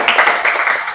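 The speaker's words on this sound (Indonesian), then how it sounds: "tepuk tangan untuk kelompok 1" A vocational school class gives a round of applause for the first student group, a loud, dense patter of many hands clapping close by for about a second.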